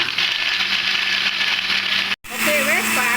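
A mixer grinder whirs loudly and continuously as it grinds curry paste for a vegetarian mee curry, cuts out abruptly for a moment, then carries on under a person speaking.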